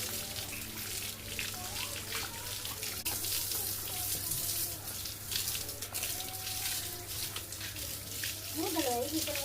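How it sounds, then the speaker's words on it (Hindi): Water is poured and splashed over a stray cow being washed, a steady running, sloshing stream with a low constant hum beneath and a few faint voices in the background. "अब मैं इसको पानी मार दूंगी।"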